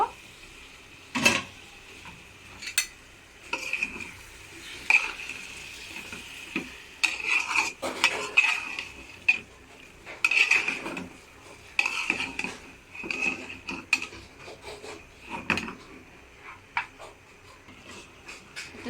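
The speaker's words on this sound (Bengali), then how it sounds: "এখন একটু ঢাকা দিয়ে দিব, কষানো পর্যন্ত একটু অপেক্ষা করব। একটু নেড়ে দিব।" Egg curry being stirred in a pan that is covered between stirs, with repeated scraping and clattering of a utensil against the metal and a lid knocking, over a faint low sizzle.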